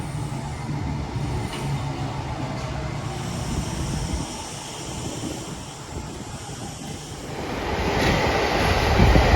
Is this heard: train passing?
yes